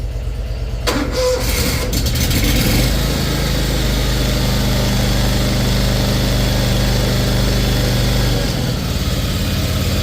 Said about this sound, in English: All right, so the Brigg started.